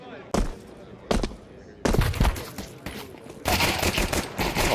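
Gunfire in Counter-Strike 2, several sharp loud pistol and rifle shots in separate bursts, followed by denser rapid firing, with a commentator talking over the action.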